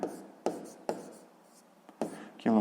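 Pen writing numbers on paper during a sixth-grade maths exercise, a few short scratchy strokes in separate bursts, close and quiet, with a voice briefly heard at the end.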